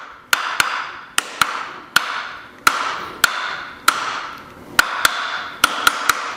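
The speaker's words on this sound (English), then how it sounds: "So I set the fence using the plane hammer." About a dozen sharp plane-hammer taps setting the fence of a wooden hand plane, at an uneven pace, each crisp and close, with brief ringing decay and quiet between strikes.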